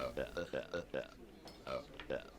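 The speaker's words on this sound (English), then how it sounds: "We're burping." Character burping in the video game Conker: Live & Reloaded, a run of short rhythmic belch-like voiced bursts, about a dozen in quick succession, fairly quiet.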